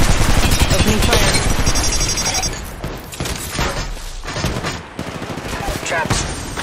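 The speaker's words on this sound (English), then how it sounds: "They're shooting at me. Opening fire." Sustained gunfire in the mobile battle royale game Apex Legends Mobile, with dense rapid automatic bursts and overlapping shots that rattle almost continuously, loud and close, with brief lulls between volleys.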